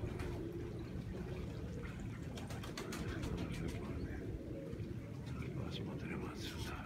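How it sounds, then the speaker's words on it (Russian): Pigeons coo softly over a busy outdoor background, with occasional bird chirps and low, steady ambient noise. "Это голуби."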